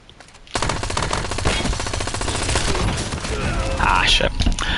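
Rapid automatic gunfire in the Warzone video game, loud and close, with dense bursts of shots running almost continuously after a quiet start.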